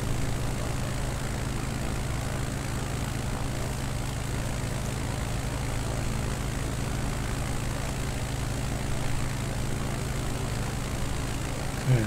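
A propeller aircraft engine drones in flight in Microsoft Flight Simulator 2020 on a Nevada bush trip, sounding as a steady, loud, unbroken hum with a low throb throughout.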